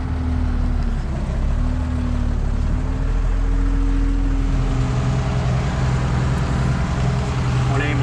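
A tractor drives along a forest track used for hauling cut acacia wood, its engine giving a loud, steady low drone with shifting pitch as it moves along.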